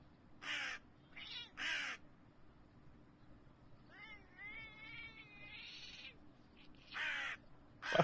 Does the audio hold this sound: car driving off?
no